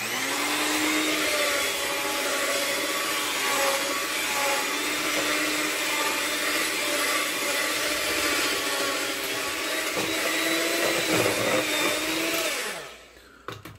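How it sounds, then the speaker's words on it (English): Electric hand mixer whirring steadily through ube waffle batter, a loud continuous motor drone with a shifting pitch that runs for about thirteen seconds before cutting off abruptly at the end. "All right, so I got the mixer here."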